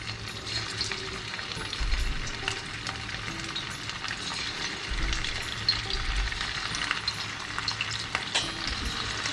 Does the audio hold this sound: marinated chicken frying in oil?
yes